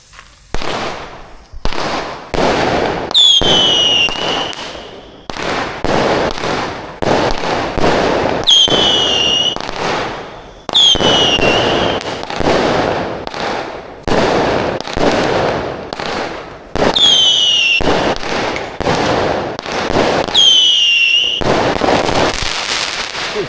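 Fireworks and firecrackers set off outdoors on Hari Raya morning: a string of loud cracking bursts and pops, with several whistling rockets streaking up in between, going on steadily with short gaps.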